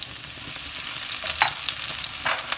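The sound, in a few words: onions frying in a pan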